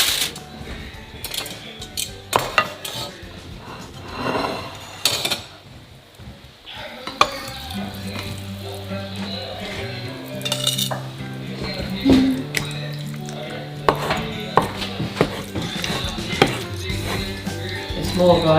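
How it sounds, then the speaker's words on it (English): Knife chopping stewed pork leg on a board in a home kitchen, with repeated sharp cuts in uneven bursts close by, mixed with clattering kitchen handling and some talk. "we're gonna chopping them."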